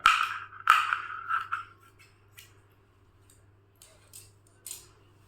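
Scissors snipping through old clothing fabric, a few close, crisp cuts early followed by fainter, sparser snips with quiet pauses between them.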